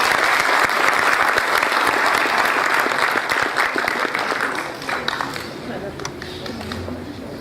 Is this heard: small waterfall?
no